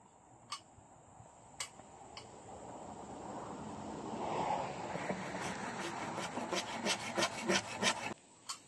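A hand saw cuts bamboo for building a greenhouse outdoors, a steady rasping stroke that grows louder and more rhythmic toward the end, with a few sharp ticks and knocks along the way.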